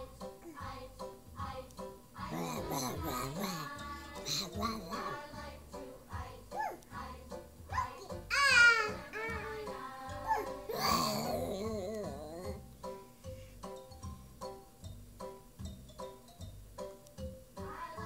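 A young child imitating a loud monkey with high, wavering hoots and squeals in uneven bursts, close to the microphone with some babbling between the calls.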